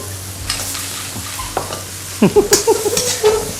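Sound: stir-frying greens with shrimp and egg in a pan

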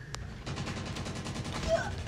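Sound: shotgun firing, from video game Call of Duty Mobile

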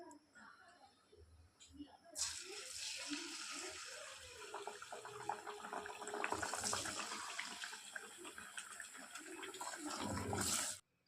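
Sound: rice pindi chekkalu frying in boiling oil

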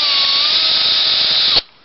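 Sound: power drill or impact driver running

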